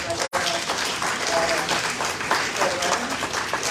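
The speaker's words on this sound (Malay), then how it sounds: "Kita beri tepukan" Applause from an audience at a Malaysian program launch ceremony, broadband and sustained for several seconds with a brief dropout near the start, with some voices mixed in.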